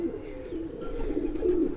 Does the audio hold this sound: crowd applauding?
no